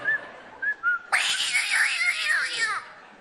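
A person imitates a cat with a drawn-out, wavering meow, loud and near, following a few short whistled notes.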